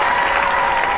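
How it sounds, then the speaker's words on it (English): An audience at an award show claps in sustained applause, a dense and loud wash of many hands with no break. "Please give a warm round of applause for our first presenters, Plankton and SpongeBob."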